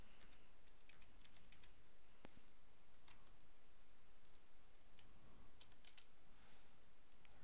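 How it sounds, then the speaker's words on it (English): Faint, quick clicks of keys being typed on a computer keyboard, irregular taps over a soft steady background hiss, no voices. "We can search by typing its name."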